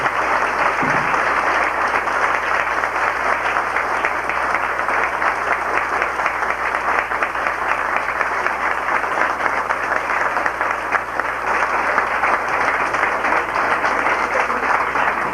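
Enthusiastic applause from graduates and guests at a theology class ceremony, a loud, dense, continuous wash of clapping from a large crowd, unbroken and steady throughout.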